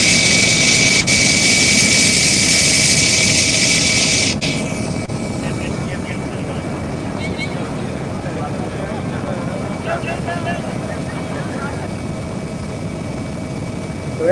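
A helicopter flies over an open square during a protest in Warsaw, its loud, steady engine roar played back through speakers and filling the room, then easing to a lower, continuous drone with faint voices beneath.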